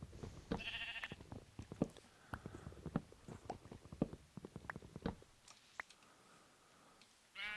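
Rapid, rough bleats of a sheep in the Minecraft video game, repeated in quick succession, with more scattered bleating and clicks amid quiet game sounds.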